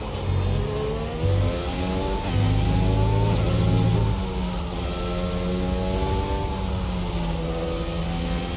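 Racing car engine from an F1 video game at the Hungarian Grand Prix, revving hard and steadily on a flying lap, with rising and falling pitch sweeps as the gears shift, loud and close throughout.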